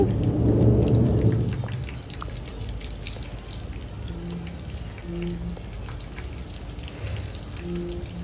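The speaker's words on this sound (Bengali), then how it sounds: "এইভাবে আট থেকে দশ মিনিট ফ্রাই করে নিতে হবে" Fish roe fritters sizzle gently in oil over low heat, a soft continuous crackle with a louder burst at the start, close up and without speech.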